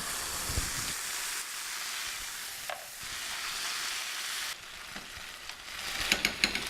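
Crushed tomatoes dropped into a hot pan give a broad, steady sizzle and hiss that carries on for several seconds, then settle as the food is stirred, with a few sharp scraping clicks at the end.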